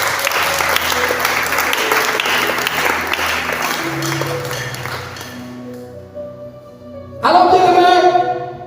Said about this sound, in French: Si tu comprends, donne des acclamations au Seigneur.